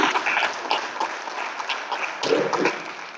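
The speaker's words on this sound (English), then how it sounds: "Give Mr. Killian a round of applause." An audience applauds a prize winner at an organization's live-streamed event, steady dense clapping filling the room at moderate loudness, with a brief swell near the end.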